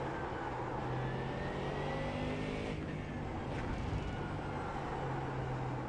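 A GT3 race car in a racing game laps Silverstone, its engine a loud, continuous roar with brief dips that sound like gear changes midway, and no talking.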